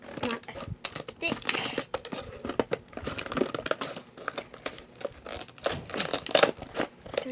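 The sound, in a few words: scissors cutting thick plastic packaging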